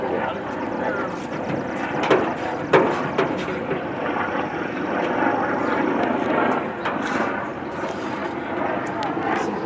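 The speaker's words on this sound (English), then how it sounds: "I hear a helicopter." A helicopter touring around Newbury, Ohio, heard as a steady distant rumble and drone that swells slightly, with scattered nearby clicks and handling noise and some talking.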